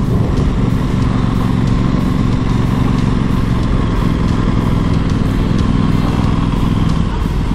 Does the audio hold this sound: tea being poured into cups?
no